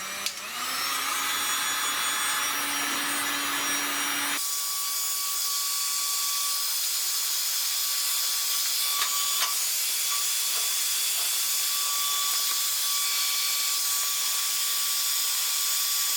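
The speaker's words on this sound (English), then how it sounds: "then he'd just use a heat gun and then just dry it with a heat gun" A heat gun dries a freshly sprayed part in a welding repair shop, its blower producing a loud, steady, unbroken hiss that runs throughout, close by and with no one speaking.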